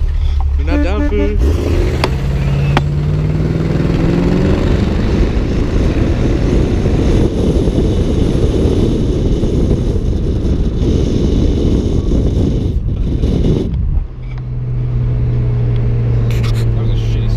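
A 1972 Chevelle roars through a drag race against another car with an automatic, a loud, sustained engine drone rising and straining before dropping to a steady idle hum; people talk over the start.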